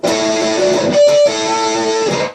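Les Paul electric guitar on the bridge pickup through a cranked Vox AC-30 plays a short, loud, distorted lead phrase with sustained bent notes, heard alone.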